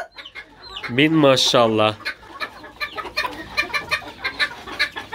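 Hens cluck near a coop, a few short bursts scattered throughout, heard under a voice that speaks loudly for a moment early on.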